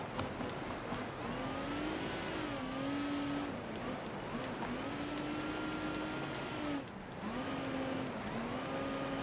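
A car engine in a racing video game drones at steady moderate volume, its pitch rising and falling in repeated revving sweeps, with a brief dip near the end.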